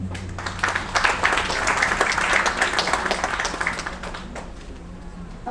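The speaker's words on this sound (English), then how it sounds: "another round of applause, please" Applause from an audience at an entrepreneurship event at a science and entrepreneurs park incubation center, a steady patter of clapping that swells and then slowly thins out over several seconds.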